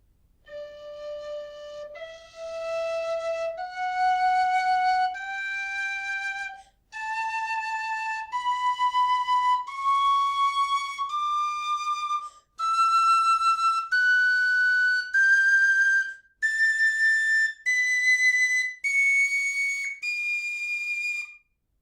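A small MK Midgie high D tin whistle plays a slow ascending scale of clear, pure held notes, each sounded alone with short breaks between, bright and close with no talking.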